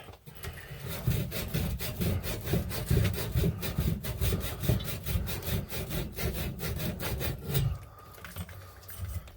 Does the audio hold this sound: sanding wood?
yes